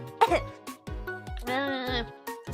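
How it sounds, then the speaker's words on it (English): One sharp cough bursts out near the start, followed by a voice talking briefly. "this cough is so annoying."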